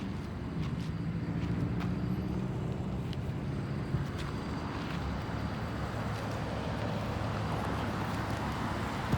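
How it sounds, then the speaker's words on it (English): Wind blowing outdoors in a yard buffets the microphone with a constant loud, low rushing roar that stays steady throughout, with no talk. "It's just breezy for nothing."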